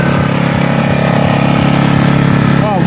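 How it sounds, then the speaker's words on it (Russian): A generator starts up and runs with a steady, loud mechanical engine hum and a dense exhaust drone, continuous throughout, with a brief rising whine near the end. "Смотрите, запуск генератора."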